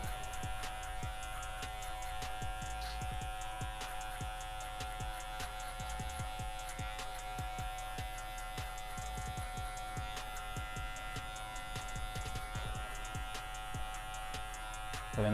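Electric hair clippers buzz steadily at close range while cutting a fade, the corner of the blade edging the hairline, with a continuous hum broken by small ticking contacts and no talking.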